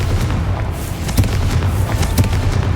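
A Confringo fire spell detonating in Hogwarts Legacy gameplay: a loud, dense explosive blast with rumbling low-end boom and a couple of sharper bursts, filling the whole moment without speech.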